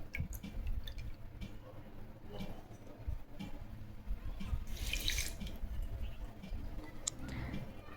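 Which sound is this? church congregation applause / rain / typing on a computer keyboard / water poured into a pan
water poured into a pan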